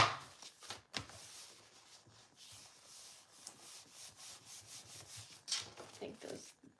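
Paper is folded and creased by hand while making an air mail envelope travel journal, giving soft close rubbing and brushing strokes with short crisp rustles, fairly quiet.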